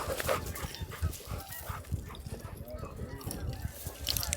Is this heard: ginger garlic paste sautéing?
no